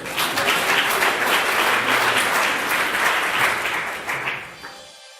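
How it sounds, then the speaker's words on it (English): An audience at an evening awards ceremony gives a full round of applause, loud dense clapping that stays steady before tapering off and cutting out near the end. "one more round of applause."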